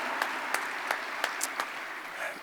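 Audience applause at an Atlanta youth celebration event, a steady patter of many hands clapping at moderate distance, with a few sharper claps standing out.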